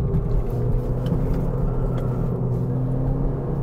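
Steady droning engine and road rumble from a 2018 Chevrolet Cruze RS diesel hatchback with a six-speed manual, accelerating and holding revs at moderate level with no talking.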